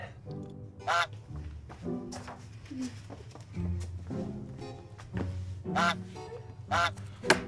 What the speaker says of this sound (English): that honking is going to drive me crazy